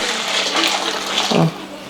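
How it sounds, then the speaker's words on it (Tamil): Hot water pours steadily from a kettle over dry soya chunks in a kitchen bowl, a continuous close splashing rush that dips briefly near the end. "இப்போ இந்த சோயாக்குள்ள வந்து நல்லா சுடுதண்ணி ஊற்றிக்கலாங்க"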